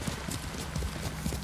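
Horse hooves clip-clopping in the Ghost of Tsushima video game, a quick run of soft, fairly close steps at a steady gait, heard alone for a brief moment.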